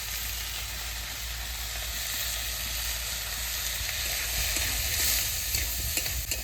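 Eggplant pieces with salt and turmeric fry in hot oil, a constant close sizzle with light stirring scrapes toward the end, no voices.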